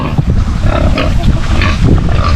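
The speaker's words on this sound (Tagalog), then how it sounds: "ayun na kumakain na yung mga baboy natin free range dito" Free-range pigs on a backyard farm feeding nearby, loud close grunting and snorting in an unbroken rough jumble with squealing edges.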